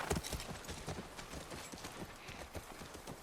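Horse hooves clip-clop at a steady walking rhythm on a ranch in the video game The Last of Us, close and moderately loud, with no voices over them.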